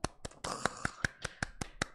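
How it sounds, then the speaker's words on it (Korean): About nine sharp, evenly spaced hand claps come through faintly in an online youth history class. They sound like a single participant clapping, with no talk over them. "박수."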